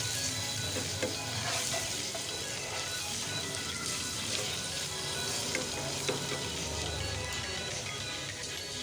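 Chicken with Kashmiri red chilli powder and coriander powder sizzles loudly in a pan, a dense continuous frying hiss with occasional stirring scrapes, close and unbroken, with no talking.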